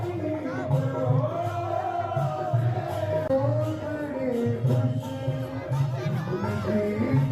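Dense murmur of a crowd of devotees packed inside the Radha Vallabh temple in Vrindavan, a steady indoor babble of many voices with no single voice standing out, holding an even level throughout.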